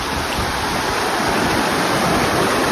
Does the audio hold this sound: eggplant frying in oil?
no